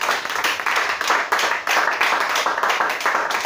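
A church congregation at a worship service claps steadily and densely in acclaim, a loud continuous patter of many hands with no pauses, and no voices are heard over it.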